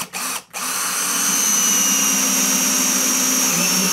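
A cordless combi drill driving a screw whirs up after two brief starts, then runs continuously at a steady high-pitched speed, loud and close.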